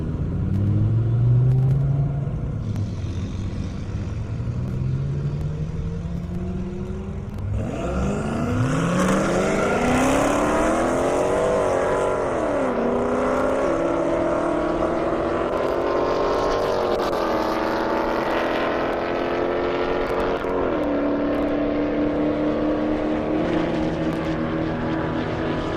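Drag racing cars tearing down a half-mile airport strip at over 240 mph, loud engines surging and climbing in pitch through repeated gear changes, a sustained roaring run heard at fairly close range with no talking.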